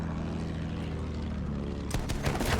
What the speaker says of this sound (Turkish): uçağımızı ters sürelim